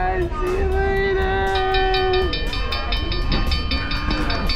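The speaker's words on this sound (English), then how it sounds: "Okay, the train just started!" A train rumbles and hums steadily as it begins moving, with a sustained whistle-like tone and rhythmic clacking of wheels starting up, loud and close.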